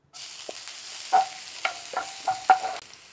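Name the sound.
sautéing onions in oil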